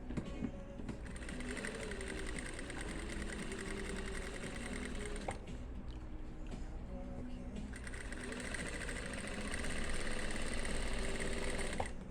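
A sewing machine stitches fabric for a men's dress shirt collar with interfacing underneath, a steady mechanical whir running throughout and growing a little louder near the end, with faint background sound beneath it.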